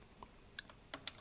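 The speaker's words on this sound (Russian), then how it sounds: "на ощупь пишу" A few light, quiet keystrokes on a computer keyboard, scattered clicks close by with no talking.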